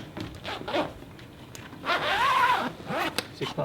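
Zipper drawn along the rear cockpit cover of a Bavaria 32 Sport boat, several close, scratchy zipping strokes in short bursts, with one longer pull in the middle.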